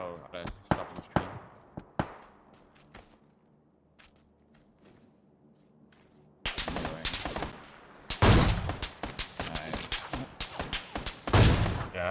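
Gunfire in a multiplayer video game: scattered single shots early, then sustained rapid automatic bursts and echoing volleys, loud and close, with players talking intermittently.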